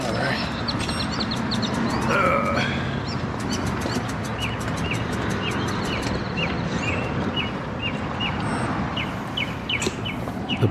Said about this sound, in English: The birds love the weather.